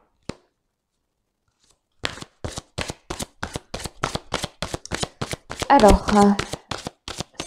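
Angel oracle cards are shuffled briskly after a short pause, a dense run of sharp riffling flutters, close and loud, with a brief spoken word near the start.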